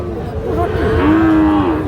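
A seven-to-eight-month-old Sahiwal bull calf at a busy cattle market lows once, a drawn-out moo rising and holding near the end, over steady crowd background noise.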